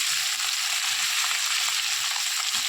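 Small bata fish fry in hot oil in a pan, producing a dense, continuous close sizzle with no talk.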